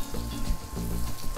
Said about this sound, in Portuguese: Quando você colocou a carne aqui, você não mexe nela, porque ela precisa selar o fundo